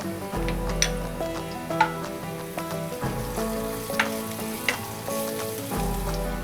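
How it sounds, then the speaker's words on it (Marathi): Crushed garlic and asafoetida sizzle steadily in hot oil, a continuous frying hiss with a few sharp pops and light ticks of a utensil against the pan, heard up close with no talking. "लसूण जरासं मस्त परतून घेऊया।"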